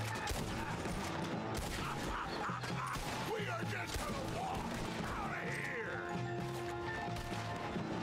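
Gunfire in the video game Red Dead Redemption 2, repeated shots mixed with dense game effects and music, with a voice talking over the action.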